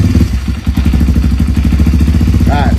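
A Kawasaki KLX230 motorcycle engine fitted with an aftermarket ECU tuner starts up and settles into a loud, close, rapid thumping idle, with a brief mechanical clatter early on.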